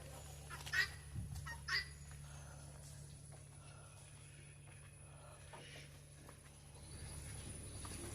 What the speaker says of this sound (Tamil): இந்த கிண்ணி கோழி பாருங்கள் இங்கே நின்று கத்திக்கிட்டு கிடக்குது மேலே